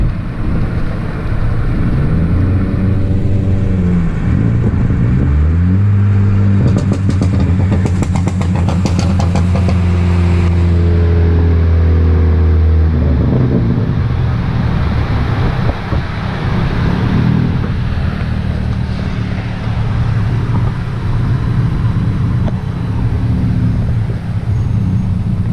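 A car engine hums and rises in pitch as it accelerates on the road, heard from inside with steady road and wind noise, a brief beeping alert partway through.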